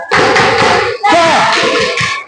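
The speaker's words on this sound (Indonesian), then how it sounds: "Sekali lagi tepuk semangat." A classroom of students performs the rhythmic 'tepuk semangat' clapping chant, voices calling out in unison over quick bursts of claps, with a brief pause partway through.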